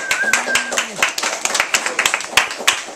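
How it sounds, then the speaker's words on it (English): Scattered hand claps from a small group, sparse and irregular over a few seconds, with a brief tonal whistle-like sound near the start and some voices mixed in. "Give them a round of applause."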